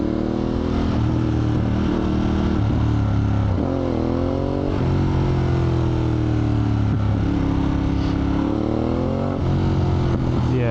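A sports motorcycle engine, apparently a Suzuki GSX-R, revs and pulls hard while being ridden, pitch climbing through repeated gear changes with short dips between shifts, loud and close with steady wind rush.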